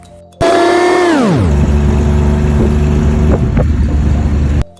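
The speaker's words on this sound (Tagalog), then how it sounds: "nakasakay na tayo ng yellow cab papuntang Conrad" Steady, loud engine and road rumble from inside a moving yellow taxi cab in Manila, starting with a falling whine as the motor settles into a constant drone with wind noise.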